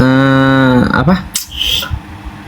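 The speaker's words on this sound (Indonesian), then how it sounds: "Itu kerbau birahi itu Usman itu." Water buffalo in heat gives a loud, close, drawn-out low moo, then breaks off into a few rough grunting noises and muffled rustling.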